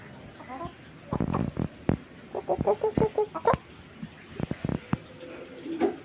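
Chickens cluck in a burst of short, quick, repeated calls, faint and close by, mixed in among people talking nearby.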